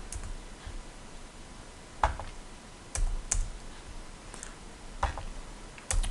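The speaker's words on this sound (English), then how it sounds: "I'm just going to backspace over the dot and its tab, and I'll do that throughout." Computer keyboard keys tapped in short irregular bursts, including repeated backspace presses while editing HTML code, close and crisp with pauses between clusters of clicks.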